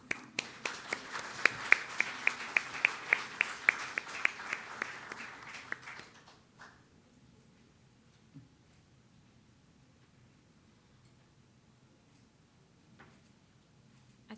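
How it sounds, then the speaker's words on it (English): Audience applause at a Korea-Eureka Innovation Forum photo session, a burst of dense clapping with sharp individual claps on top that fades out after about six seconds, leaving a quiet room. "why don't we give a big round of applause?"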